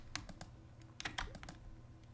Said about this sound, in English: hold the shift key down on your keyboard